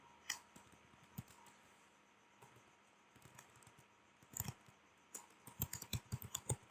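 A domain name is typed on a computer keyboard as soft, scattered keystrokes over a faint background hiss, ending in a quicker run of taps.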